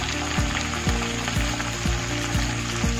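Spices frying in a pan for cauliflower sabji give off a dense, steady sizzle, continuous and close, with a faint regular low pulse running beneath it.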